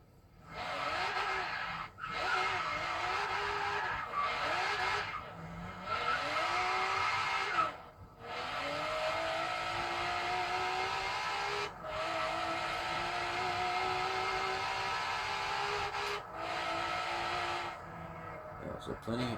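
A tuned drift car in Forza Horizon 3 drives through the game, its engine revving up and down in rising and falling sweeps, with gear-change dips and tire squeal. It sounds sustained and loud throughout, with no voices.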